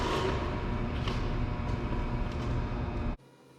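Tack welding a steel bracket onto a pasteurizer frame gives a loud, continuous crackling buzz for about three seconds that then stops abruptly, leaving a quiet hum.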